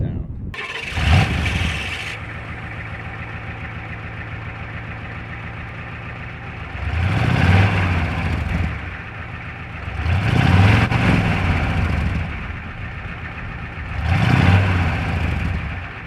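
Old 27-year-old truck engine cranking over and catching, then idling with a deep rumble and three loud revs rising and falling, heard up close with some talk mixed in.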